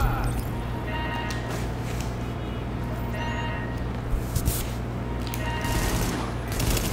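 Gunfire in the video game Tom Clancy's The Division on PS4, dense rapid bursts over a constant loud hum of game sound.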